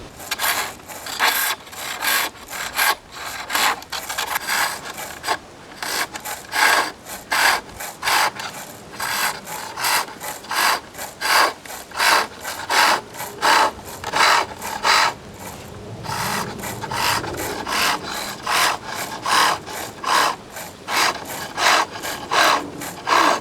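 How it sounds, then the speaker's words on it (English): A skew chisel smooths a wooden spinning top turning on a lathe, making a close, rhythmic scraping and rasping that comes in rapid repeated strokes with brief pauses, steady in loudness throughout. "I'm using the skew just to smooth the top."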